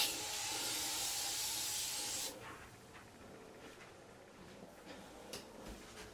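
A loud, steady spray of bathroom cleaner onto shower tile hisses for about two seconds, then stops, leaving soft rustling and faint handling noises close by.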